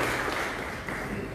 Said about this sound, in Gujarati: ઉજાસ મેગેઝિનને આપણે ખૂબ તાળીઓથી વધાવીએ